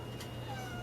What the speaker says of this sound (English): you may hear my cat meowing in the background